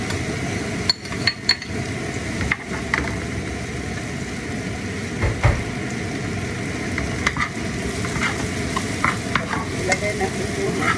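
Fish sizzling in a frying pan as it goes in before mung beans are added for a green mongo soup; a continuous hiss with scattered sharp clatters and scraping knocks, close and loud, no voices.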